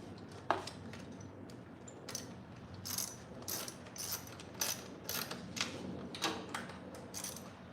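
Nuts being fitted to hold a part in place on a snow blower during repair: a series of short metallic clicks and ratcheting taps at an uneven rhythm, close and fairly quiet, with no talking.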